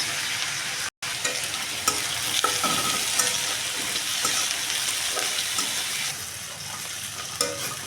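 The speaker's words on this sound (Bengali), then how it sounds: "পেঁয়াজ আর রসুন আমি সুন্দর করে এখন ভাজে নেব কাঁচা মরিচ" Onion, garlic and green chilies fry in a pan for a taro leaf mash, a dense, continuous close-up sizzle with scattered stirring scrapes and brief crackles throughout.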